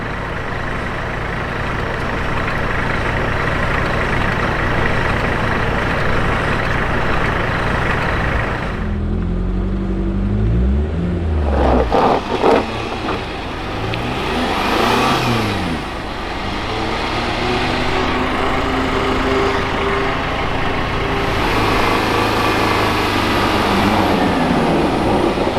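A 4x4's engine drones and revs while a Land Cruiser tows it, loud and close. The pitch rises and falls through several revving surges, and no one speaks.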